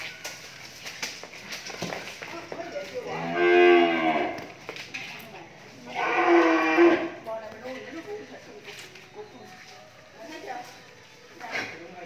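Cattle on a Vietnamese cow farm where breeding bulls are raised moo loudly in two long, drawn-out calls about two seconds apart, with a quieter lowing later, amid ambient farm noise and people talking nearby.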